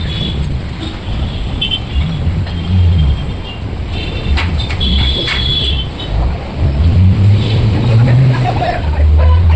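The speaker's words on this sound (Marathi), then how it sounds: "गाड्यांची गर्दी बघा मित्रांनो, एवढी गर्दी" Dense Mumbai road traffic rumbles close by, a steady low engine drone with passing vehicles swelling and fading throughout, under faint background voices.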